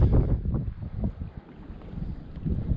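Cold wind gusting outdoors by the water, rough low buffeting rumble across the microphone that swells and eases in waves, close and loud with no talk.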